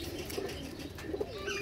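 A breeder pigeon coos softly at a pigeon market, with a few low murmuring coos over a busy, noisy background and no clear speech.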